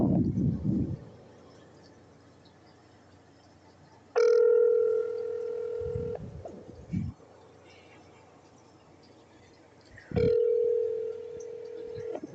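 A telephone line rings unanswered after 0 is pressed for the front desk on a phone menu, two long ring tones with a pause between them and some rustling noise around them.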